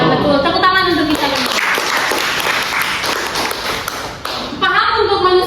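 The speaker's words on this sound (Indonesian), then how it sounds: "Tepuk tangan untuk kita." A classroom of students claps together in a dense burst of applause lasting a few seconds, framed by a teacher's voice before and after.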